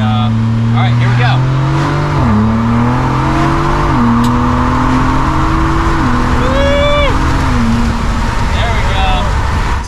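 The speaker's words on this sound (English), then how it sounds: "The wind noise is what you would expect if you've been in a Wrangler before, or any convertible for that matter." Steady wind buffeting and road rush inside a Ford Bronco Raptor driving with its roof and doors removed, a continuous loud roar mixed with engine drone and shifting gear tones, with voices talking over it.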